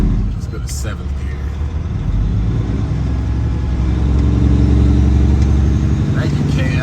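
A Kenworth W900 truck's engine revs and pulls through a shift into seventh gear, a steady loud low rumble building in intensity, with someone talking over it.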